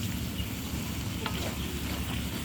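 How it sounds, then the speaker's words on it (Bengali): Beef tripe with potatoes sizzling and being stir-fried in a pan, a dense, even hiss of frying with a low rumbling bed underneath, steady and close throughout. "এখন এই ভুড়িটা আলুর সাথে আর একটু সময় নিয়ে কষাই নিব"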